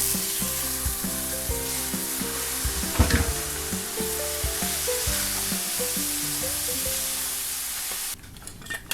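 Green beans and pressed garlic sizzle loudly in a hot pan, a dense continuous frying hiss with clanking stirring sounds, cutting off abruptly near the end.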